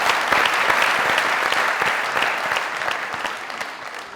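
A studio audience at a Pakistani comedy talk show breaks into loud, sustained applause, thick continuous clapping that holds for several seconds and eases slightly toward the end, with no voices on top.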